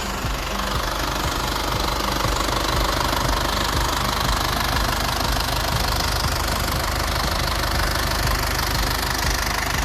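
An Isuzu Cab4 Dragon Eye 3.0 diesel pickup engine idles up close, a loud, even clattering rumble with a steady knocking rhythm that holds unchanged throughout.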